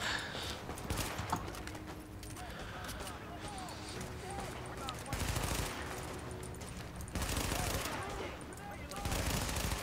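Gunfire rattles in Tom Clancy's The Division during a fight to take a precinct, with bursts of automatic shots at a moderate distance under a steady bed of game noise.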